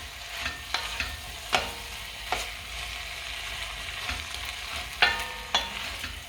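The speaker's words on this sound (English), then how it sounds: "Give it a quick stir, and then we're going to cook that for a further 15 minutes." Lamb curry sizzles gently in a pan on the stove, with a steady low frying hiss broken by several sharp scrapes and clinks of a spoon stirring against the pan.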